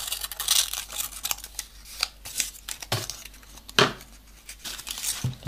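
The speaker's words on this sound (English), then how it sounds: "And then cut it in half." Scissors snip through a thin sheet of white origami paper, cutting it in half with a few crisp, close cuts and light paper crinkles between them.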